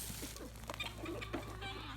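Chickens in a farmyard run kept alongside goats, ducks and guineas give short, scattered clucks at close range over a steady low background hum, with no talk.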